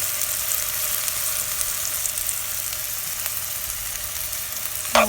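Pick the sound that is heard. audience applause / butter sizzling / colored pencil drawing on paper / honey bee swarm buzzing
butter sizzling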